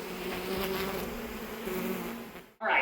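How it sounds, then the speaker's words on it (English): Steady droning buzz of many honey bees swarming close by inside a bathroom wall, continuous for a few seconds before a brief gap and a sharper burst of buzzing. "there's bees coming out"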